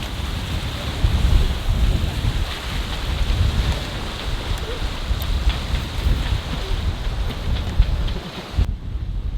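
Strong wind of roughly 25 to 30 knots roars steadily over a sailboat, a dense continuous rush with gusty swells and buffeting on the microphone, cutting out abruptly near the end.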